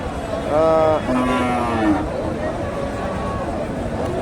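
At a cattle, bull and buffalo market in Dhap, Bogura, a cow gives a loud, close, drawn-out moo, then a lower second call, over a background of crowd babble and voices.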